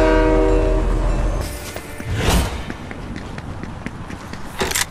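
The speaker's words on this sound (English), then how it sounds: "Ignore the train." A train rumbles past in Fortnite, its horn sounding loud and close at the start before the noise breaks into clattering and footstep-like game sounds.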